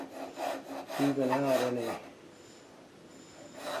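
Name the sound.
small hand tool scraping a wooden bench stretcher channel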